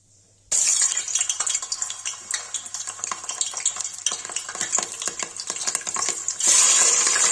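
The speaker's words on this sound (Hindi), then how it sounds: "भाई देखिए तेल हो गया, वैसे मटन डाल देंगे।" Mutton pieces dropped into hot oil for a spicy curry, bursting into a loud continuous sizzle and crackle with irregular spatter pops that stays close and intense, surging brighter near the end.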